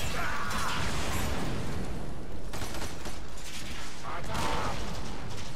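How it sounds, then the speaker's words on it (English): Dense, continuous bursts of booming and crackling explosions in Warframe fill the scene, with gunfire-like pops layered in a busy, loud mix. "Explosions everywhere."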